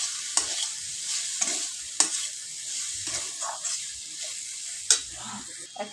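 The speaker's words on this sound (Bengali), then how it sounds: "মশলাটা দেওয়ার পরে ভালো করে একটু ভাজা ভাজা করে বানিয়ে নেবো" Chili powder, turmeric and ginger-garlic paste frying in a pan, with a gentle sizzle under repeated scraping strokes of a spoon every second or so, close and fairly quiet.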